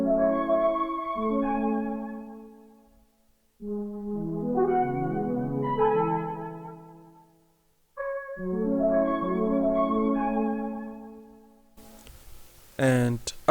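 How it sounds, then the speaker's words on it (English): A soft flute-like pad from the Expand plugin swells through three long sustained chord phrases with short gaps between them, and a brief airy burst of texture comes in near the end. "the pad flute is from Expand and sounds like this"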